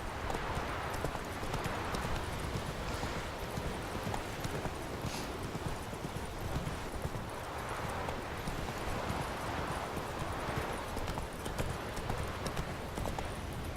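Roach, Geralt's horse in The Witcher 3, clip-clops steadily through Southern Skellige, hooves beating in a continuous rhythm at close range against a dense outdoor background, with no talking.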